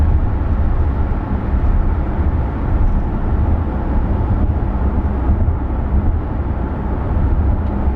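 Inside a 2025 Kia Sportage Hybrid cruising at 80 km/h, a loud, steady broadband rumble of road and engine noise fills the cabin without a break, with no voices.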